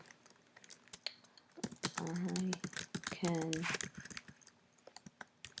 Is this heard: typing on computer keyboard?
yes